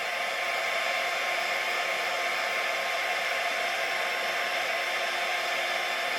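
A heat gun blows a steady, even rushing hiss as it melts embossing powder on a handmade card, running continuously without pause at moderate loudness and with no talking.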